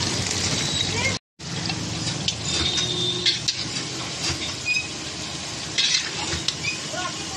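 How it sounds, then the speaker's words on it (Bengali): Vegetables including radish fry and get stirred in a pan, with crackling sizzle and scraping strokes, one brief dropout, and a voice talking over part of it. "এবার এগুলোকে একটু ভালো করে ভেজে নিয়ে তারপর তুলে দেবো।"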